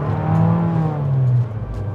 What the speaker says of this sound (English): It sounds good when it's revving out.